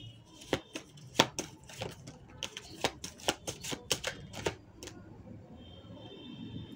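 Tarot cards are handled and shuffled close by in a run of crisp, rapid taps and flicks that then fade into a quiet hiss.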